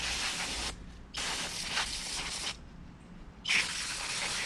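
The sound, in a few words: spraying brake cleaner on a motorcycle brake fluid diaphragm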